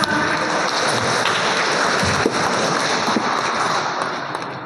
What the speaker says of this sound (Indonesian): Kita beri tepuk tangan sama kita.